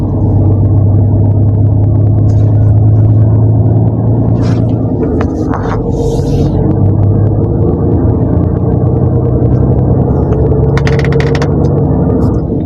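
A truck creeps through heavy traffic, its engine giving a loud, steady low drone and rumble that continues throughout, with a few brief higher clatters over it and no talking.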